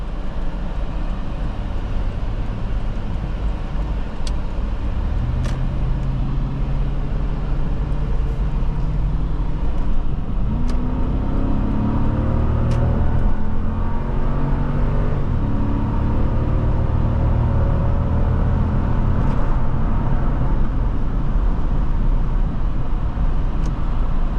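Heavy 2008 Lexus LX570 V8 SUV accelerating hard on a test drive, a steady, loud cabin engine drone with rising harmonics as revs climb through gears, continuous road noise underneath and no talk.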